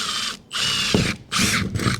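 A power drill with a small bit bores a pilot hole through a van's metal roof, running in three loud, close bursts separated by short pauses.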